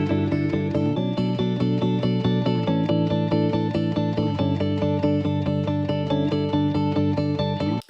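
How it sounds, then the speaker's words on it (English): A sustained electric guitar layer with delay and reverb effects rings out loudly and continuously, its notes smeared into a thick, steady wash that cuts off abruptly at the end. "So the next guitar layer added is this."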